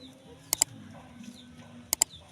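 A pet lasak, a kind of wild-caught bird, gives two pairs of short, sharp double calls close by in a quiet space, with faint chirps between them.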